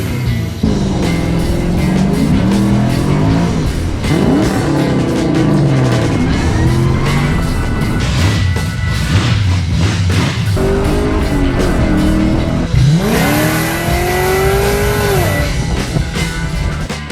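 A 1978 Ford F100 pickup with a swapped Coyote V8 and 6R80 transmission starts and runs outside a shop after heavy rain, a loud, continuous engine roar with revs repeatedly rising and falling.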